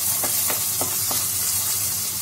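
Tomatoes frying in a hot pan for a crab curry, giving a steady broad sizzle with a few soft stirring knocks, close and continuous with no talk.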